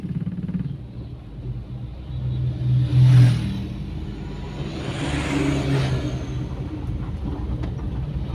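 A motorcycle engine, started with the starter, runs at a steady low rumble with a brief swell of revs, close and alone without talk.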